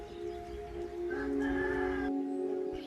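A rooster among a grandmother's village hens crows once in a clear, drawn-out call, close by and loud over soft farmyard background, without speech.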